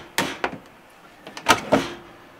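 A drawer in a 2017 Lance 995 truck camper slides open and shut, giving a few short sharp knocks and rattles in two quick pairs, close by and with no voices.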